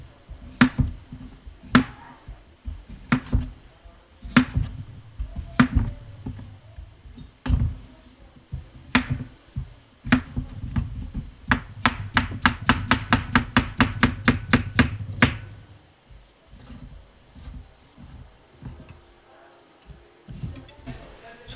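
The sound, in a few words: knife slicing cucumbers into half moons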